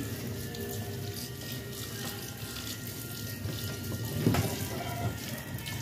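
Steady rushing of water, like a tap running into a sink, continuous throughout with a brief louder splash near the end, while washing chicken feet.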